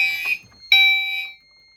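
A Gentex Commander 2 fire alarm set to chime sounds after a pull station is activated during a walk test: two loud, bright electronic chime tones, the second ringing out and decaying, with no talking.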